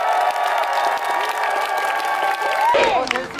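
Crowd applause at an outdoor election campaign rally in Songdo, Incheon, a dense continuous wash of clapping and some cheering that cuts off as a single voice begins speaking over amplification.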